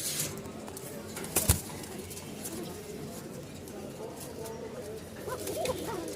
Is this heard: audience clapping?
no